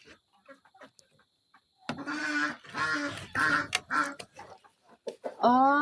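A brooding imported hen clucks and grumbles close by in several throaty, drawn-out bursts with quiet gaps and faint clicks between, then a higher squawk at the end.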